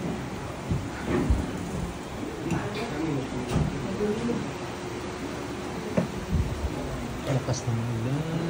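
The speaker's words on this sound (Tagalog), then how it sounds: "Lakas ng ulan." Heavy rain pours down in a dense, steady hiss, with occasional low rumbles and sharper knocks, while a voice sounds faintly underneath.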